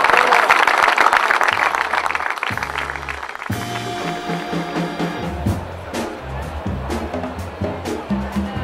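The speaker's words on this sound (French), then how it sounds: "Merci pour vos applaudissements" A large crowd gives loud, dense applause at the 2013 Fête de la Fleur wine ceremony in the Médoc, then it cuts off abruptly into music and talking.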